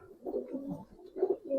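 Old-breed Giribaz pigeons coo in a loft, two short rolling coos close to the mic, alone and with no talk over them.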